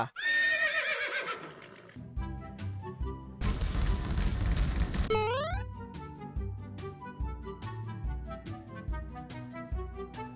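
A horse in Estate Agent Simulator gives a loud, shrill whinny, followed by crashing bursts and a quick rising sweep, then clear plucked game music plays on, no talking.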